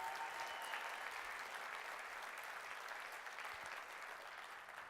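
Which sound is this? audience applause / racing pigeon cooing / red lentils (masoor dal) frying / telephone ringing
audience applause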